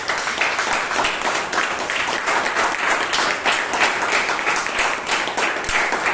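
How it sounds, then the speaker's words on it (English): Applause for a speaker and evaluator at a Toastmasters club meeting in Bangalore, a dense, even round of many hands clapping that holds steadily throughout without talk. "Please give the speaker and the evaluator a huge round of applause."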